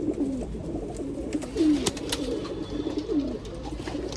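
Old line pigeons coo in soft, low, repeated rolling calls, several overlapping at close range over faint background noise.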